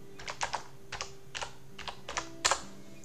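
Quick bursts of computer keyboard typing in short clusters with pauses between them, close and clear, while entering a city name into an Excel spreadsheet cell, with no talking.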